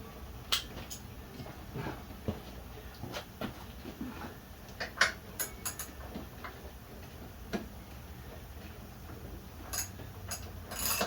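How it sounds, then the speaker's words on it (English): A ratchet wrench turns to unscrew a bolt while the nut is held on the other side, giving scattered sharp clicking ticks at close range, irregular in rhythm, with no talk. "I can hold the other side with a ratchet and it'll unscrew it"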